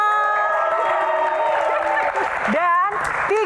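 A live audience at a dangdut music show cheers and applauds after three singers are introduced. Whoops and shouts rise over steady clapping, with voices calling out loudly near the end.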